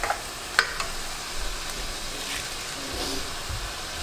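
Onion and lemongrass sizzling in a pot as the base for a tom yum hotpot broth, a steady close hiss of frying that runs throughout with a few small pops and clinks.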